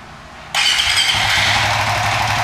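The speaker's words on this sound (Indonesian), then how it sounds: "Kita coba starter apakah mudah." A car engine catches on the starter and settles straight into a loud, steady idle close by, a sudden onset after a brief quiet hum, with no talking.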